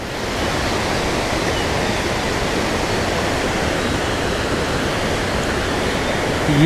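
Bathahth waterfall in Tirthan valley, a continuous loud rushing roar of falling water, steady and close throughout, with no voices.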